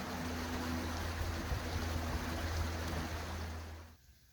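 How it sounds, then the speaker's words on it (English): Water rushes steadily along a mill flume toward a big water wheel at a corn-grinding mill, a constant broadband wash with a low rumble underneath that fades out near the end. "Here we have the flume as it approaches the mill before the water goes over the big wheel"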